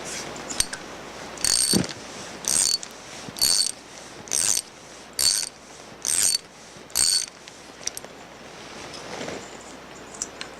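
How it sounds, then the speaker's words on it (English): A ratchet wrench with a 1-inch deep socket loosening a pressure sensor from the manifold of a ProMax40 pressure switch assembly: seven short, regular bursts of close metallic clicking separated by brief pauses, with no talking. "remove the pressure sensor from the manifold using a 1-inch deep socket"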